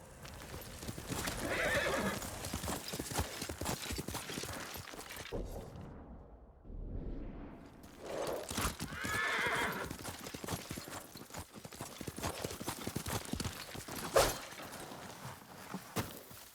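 Horse hooves clip-clopping steadily alongside repeated neighs and whinnies from a horse in the samurai action game Ghost of Tsushima, fairly close and clear with no talking over it, and a short lull partway through.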